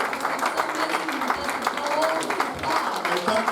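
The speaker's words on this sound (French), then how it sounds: "let's clap our hands together" A church congregation claps hands together during a francophone revival service, rhythmic crowd clapping heard under a mix of voices and chatter, with a few brief melodic vocal tones.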